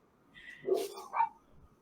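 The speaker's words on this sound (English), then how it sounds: "Sorry, the dogs are barking if you can hear it." A few barks from dogs, with a couple of distinct yelps close together and moderately loud, over quiet room background.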